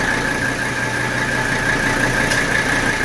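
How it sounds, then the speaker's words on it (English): A 1985 Mercedes 300D sits idling with a steady engine drone and a sustained whining squeal from the running AC compressor, loud and continuous with no speech. "There's the compressor, just kicked on."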